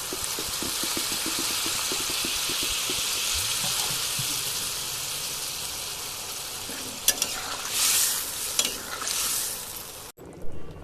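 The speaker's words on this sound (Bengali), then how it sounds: "সেই সর্ষে বাটাটা দিয়ে দেব। তারপর তরকারিতে জল দিয়ে দেব।" Ground mustard paste and water going into a simmering curry in a pan, a steady bubbling sizzle with stirring scrapes, then a brief splashing pour before the sound cuts off.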